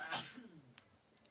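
A single sharp sneeze bursts out close by at the start, then fades into quiet room noise.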